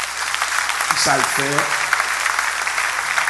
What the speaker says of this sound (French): Nous baillons l'Éternel un applaudissement